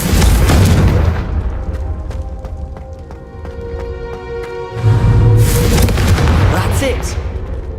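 A Confringo spell blasting candelabras in Hogwarts Legacy: loud booming fire bursts, then ringing metallic clatter and tones, followed by another heavy blast, with voices speaking over the effects.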